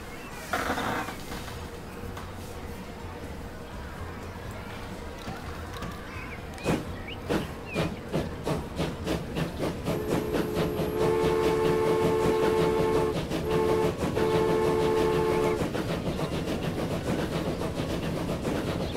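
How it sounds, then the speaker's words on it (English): Train ride in the video game Transport Fever, on a line from Tel Aviv to Ashdod in Israel: a steady rolling rumble with clattering wheel beats, then sustained horn-like tones that sound for several seconds over the running train. "Take a train ride."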